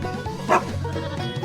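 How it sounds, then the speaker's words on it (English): A farm dog, a border collie, gives a single short bark or yip, close and fairly loud, over a steady low background hum. "And of course, my 2 farm dogs."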